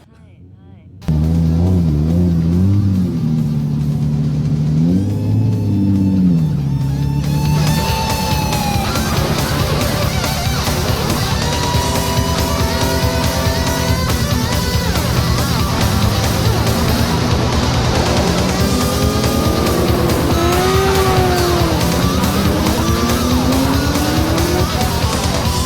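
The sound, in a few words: 1992 Nissan R32 GTR racing a lap with radial tires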